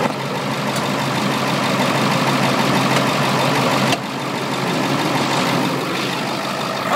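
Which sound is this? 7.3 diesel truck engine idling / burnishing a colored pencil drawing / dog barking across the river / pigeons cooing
7.3 diesel truck engine idling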